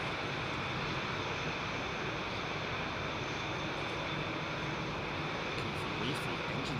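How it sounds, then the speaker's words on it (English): Roaring jet engines of a Boeing 787-10 airliner at Heathrow Airport, a loud, steady broadband rumble and whine held throughout with no break, heard close by. "engines are so loud"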